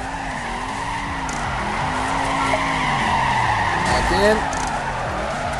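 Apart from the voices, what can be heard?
car handbrake skid in video game Torque Burnout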